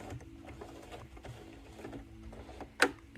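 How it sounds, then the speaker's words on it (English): A sewing machine runs quietly, stitching a seam top to bottom on a zippered travel pouch, with a soft steady mechanical whir and a brief sharper knock near the end. "on our machine, we are going to stitch from top to bottom, reversing at both ends"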